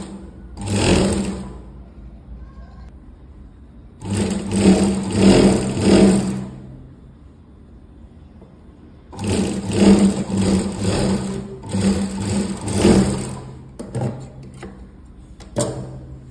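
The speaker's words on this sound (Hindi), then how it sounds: "तो देखो यहाँ पे हमने पॉइंट की सिलाई लगा के कंप्लीट हो गया।" A sewing machine stitches blouse fabric in three bursts of steady, rapid mechanical whirring separated by pauses, with a few short stops and restarts near the end.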